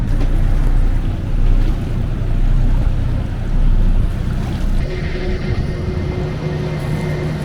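The sailboat Knotty motors across open water, with a loud, steady low engine drone under rushing wind and splashing waves.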